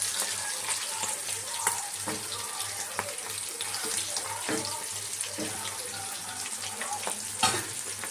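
Stingray fish pieces fry in hot oil with a steady, dense sizzle throughout, scattered with sharper pops and crackles close to the pan.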